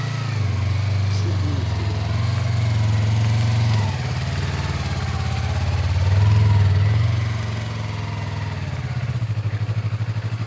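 Motorcycle ridden in a straight line during an A2 riding test, heard as a continuous, loud, low engine drone that swells and eases slightly, close by, with faint speech beneath.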